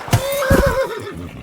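A horse in the video game Kingdom Come: Deliverance 2 lets out a loud, close whinny, a wavering high call that trails off, with a couple of soft thumps at the start.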